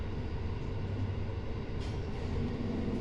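A one-car diesel railcar on the Johoku Line runs through urban Nagoya with a steady low rumble of engine and wheels under a broad, even hiss, heard from on board at a quiet level.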